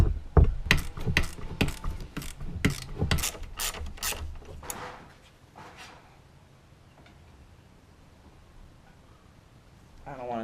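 A hand ratchet clicks in rapid bursts while loosening the strut bar bolts on a Volvo V60 Polestar, the close metallic ticks slowing and fading out, followed by quiet handling noises.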